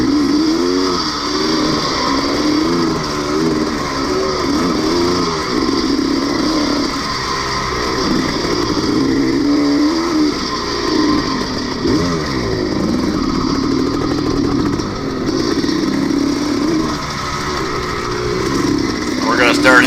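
Loud vintage cross-country motorcycle engine racing on a trail, with a raspy, barely silenced exhaust revving and shifting pitch continuously up close, a rider speaking under the engine.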